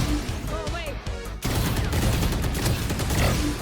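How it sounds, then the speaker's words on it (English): Sheriff pistol shots during a VALORANT Deathmatch video game, a dense stream of gunfire and impact sounds, loud and continuous, with a brief dip in the middle before it resumes at full intensity. "Then came Deathmatch, first with the Sheriff, because I enjoy the pain of missing every shot"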